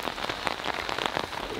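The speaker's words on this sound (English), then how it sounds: "this rain is just perfect" Steady rain pattering on a surface close by, a dense, even patter of drops throughout, falling on a farm field during seed germination time.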